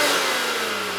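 BMW M Coupe from 2001 with the S54 3.2-liter inline-six, revving loudly and steadily close by for a moment, a dense mechanical roar with no talk over it.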